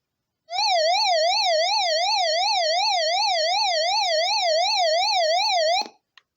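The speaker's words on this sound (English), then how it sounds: "Both a siren and a flashing far-beam flashlight will engage." A loud electronic SOS siren from a Greadio emergency radio wails with a rapid, regular up-and-down warble for about five seconds, then cuts off abruptly with a click.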